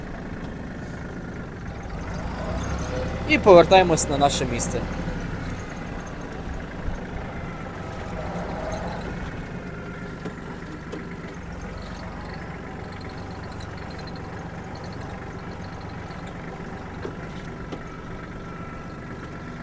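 A Kubota GL-201 compact tractor engine runs steadily outdoors in light rain, with a louder mechanical surge and clatter early on, then settles into a continuous low idle hum while someone speaks briefly.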